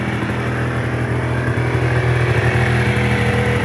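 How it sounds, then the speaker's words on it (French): MBK Booster Rocket 70cc two-stroke scooter engine idling steadily after a kick-start, a continuous close buzzing drone with a slight rise in revs, heard alone without talk. "Démarrage, premier coup de kick."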